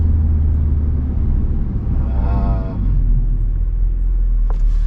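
An Audi S3 8V drives around a roundabout, its engine giving a steady, close, deep rumble with a slight dip and recovery midway through the run; no speech is heard.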